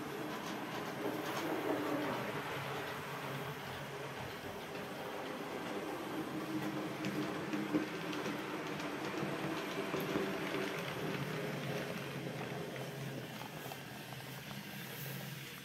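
A black Roco MRC 182 model railway locomotive runs on a layout, giving a steady, continuous rolling rumble and hiss that holds at an even level throughout, with no voices.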